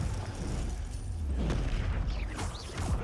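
Confringo fire spell blasts from Hogwarts Legacy, a steady rumbling explosion with crackling bursts and sharp magical whooshes toward the end, loud and continuous throughout.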